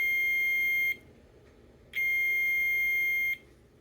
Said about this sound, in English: Set the meter to beep.